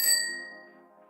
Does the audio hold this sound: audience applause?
no